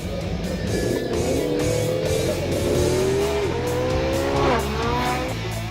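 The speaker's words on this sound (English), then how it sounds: "press the accelerator a little harder, and the V8 gas combustion engine kicks in" A Porsche 918 Spyder's V8 gas engine revs hard under acceleration, its rising harmonic whine climbing steadily then dipping and surging again, loud and close with tire noise and no voices.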